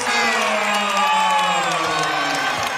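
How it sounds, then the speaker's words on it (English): A college basketball crowd at a Virginia home game cheers loudly and continuously, a dense wall of shouts and whoops with no break. "This crowd starting to come alive for Virginia."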